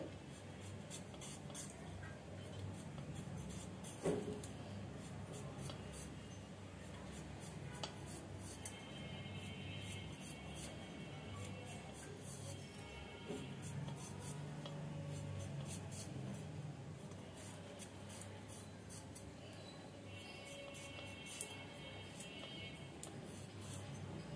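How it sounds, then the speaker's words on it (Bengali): Two potatoes are thinly sliced with a knife for a puti fish dish, giving faint, repeated cutting and scraping sounds at a quiet level with occasional sharper clicks. "আলু 2টা আমি সুন্দরভাবে কেটে নেব, পাতলা পাতলা করে"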